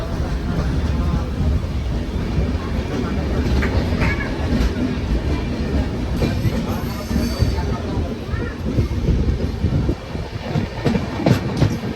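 A train bound for Yesvantpur near Bidar rumbles steadily along the rails with a continuous rhythmic clatter throughout, and voices can be heard faintly under the noise.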